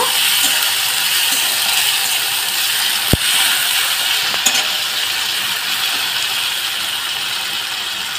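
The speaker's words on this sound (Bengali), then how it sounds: "আদা বাটা দিলাম, একটুখানি কাঁচা লঙ্কা বাটা দিলাম, দিয়ে আমি ভালোভাবে কষিয়ে নেব।" Ginger paste and green chili paste fry in hot oil for a sour-spicy hilsa fish dish, giving a steady, dense sizzle throughout with one sharp clack of a utensil partway through and no talking.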